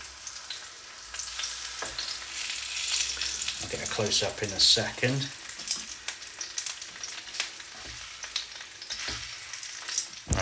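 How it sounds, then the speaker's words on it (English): Chicken pieces laid on a hot oven tray for fried chicken give a steady crackling sizzle close by, with a few clatters as they go down and a short spoken remark over the top. "Can you hear the sizzle?"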